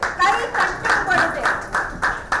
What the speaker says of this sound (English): With great round of applause from you